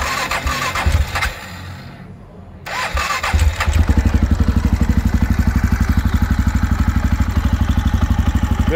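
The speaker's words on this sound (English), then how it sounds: "Very smooth running engine." A 2010 Husqvarna TE630 single-cylinder motorcycle cranks and fires up after a brief pause, then settles into a loud, close, steady thumping idle that runs evenly to the end, with no talking.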